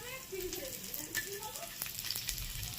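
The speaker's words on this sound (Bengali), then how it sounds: "এর মধ্যে দিচ্ছি শুকনো লঙ্কা, এটাকেও ভেজে নেব।" Dried red chillies fry with onions in hot oil for a pumpkin bharta, a soft, fairly faint sizzle with light spatula scrapes scattered through it.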